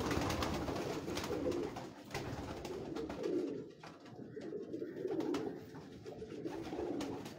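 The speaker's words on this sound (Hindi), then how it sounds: "तार वाले कबूतर" Kasur wire pigeons, an old pure breed, coo in soft repeated low throaty phrases close by, with a rustling background and no talk.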